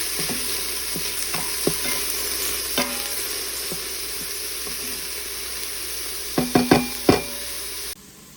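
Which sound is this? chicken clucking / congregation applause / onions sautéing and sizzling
onions sautéing and sizzling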